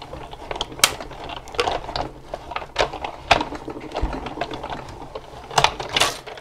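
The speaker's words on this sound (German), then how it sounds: "Und dann lege ich mir das einmal drauf und kurbel mir das mal durch meine Maschine durch." Paper is cranked through a manual die-cutting machine for card making, producing a close series of irregular clicks and ratcheting knocks as the handle turns, with no talking.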